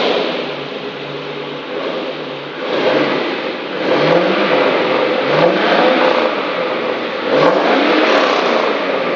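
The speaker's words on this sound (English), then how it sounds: "That's what an LS1 sounds like in a 76 Vet." A 1976 Corvette C3 with an LS1 V8 swap revving through its exhaust, several rising blips of the throttle over a steady idle rumble, loud and close with no talking.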